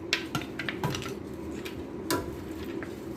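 Shrimps being stirred in a pan, a series of irregular metallic clinks and scrapes of a utensil against the pan over a low background, close and fairly quiet.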